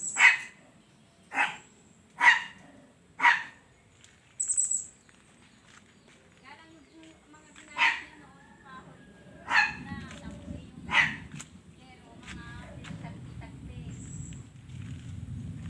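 A dog barks outdoors in sharp single woofs, about eight spaced barks at mid distance, while people talk nearby and other ambient noise fills the gaps.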